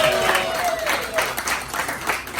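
Audience applause at a Prep Pigskin Report gathering in San Diego, with loose bursts of clapping that swell and fade unevenly, moderately close, and a voice speaking over part of it.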